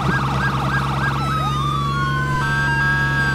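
Wailing car siren in State of Decay 2, a steady loud electronic up-and-down sweep running throughout over a constant engine hum, with a second rising tone layered in partway.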